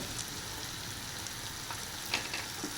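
Spice masala with green chillies sizzling in a pan, a dense, even hiss like light rain, with a few faint stirring taps near the end.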